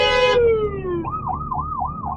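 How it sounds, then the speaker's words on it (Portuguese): An ambulance siren sounds in a heavily jammed road on a Russian street: a long descending wail glides down, then turns into a rapid rising-and-falling yelp. It is loud and close, with traffic rumbling underneath and no voices. "Vem uma ambulância."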